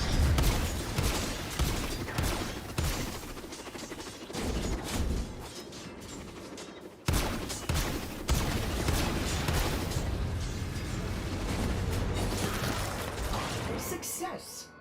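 Alternate fire from a weapon in the video game Warframe, pouring out as a dense, loud, continuous barrage of rapid blasts and mechanical bursts, with a short break midway, under in-game voices.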